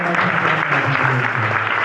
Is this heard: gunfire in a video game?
no